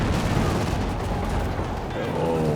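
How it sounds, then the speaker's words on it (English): A Volksgrenadier fires a Panzerfaust amid a Company of Heroes 2 battle, a dense roar of gunfire and explosions rumbling continuously, with a voice talking over the din. "The Volksgrenadier is going to fire off the Faust."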